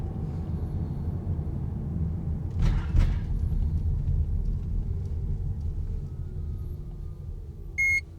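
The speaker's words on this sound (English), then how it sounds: "If there's a little beep and the barrier goes up, my tag works." Electronic toll barrier on a French motorway reading a Kia e-Niro's tag: a single short, high beep near the end, heard over the steady low rumble of the car waiting at the booth.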